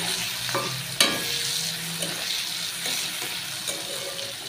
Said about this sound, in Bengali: এরপর দেব এই কুচানো পেঁয়াজটা। পেঁয়াজটা এবার একটু হালকা লাল করে ভেজে নেব।